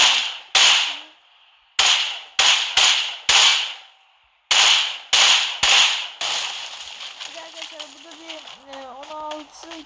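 Groza rifle shots at a car in a video game: about ten sharp, loud single cracks in uneven bursts, each ringing briefly. A voice talks afterward over low game noise.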